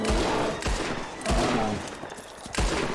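Repeated gunfire while hunting bears in Red Dead Redemption 2, several sharp shots in a loose rhythm with a lingering rumble after each, close and loud.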